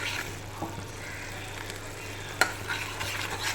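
Spice paste of cashew, melon seeds, poppy seed, yogurt, onion, ginger, garlic and green chilli sautés in a pan for bhetki fish, a soft steady sizzle with occasional scraping stirs and one sharp utensil knock.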